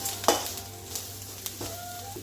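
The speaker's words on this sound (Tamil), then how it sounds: "நல்லா கிண்டி விடுங்க." Onions frying in a pan while being stirred, a soft ongoing sizzle broken by a few sharp spoon scrapes and clinks, close up with no speech.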